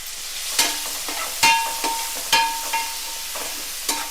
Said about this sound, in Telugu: ఆనియన్స్ అయితే వేపుతున్నాను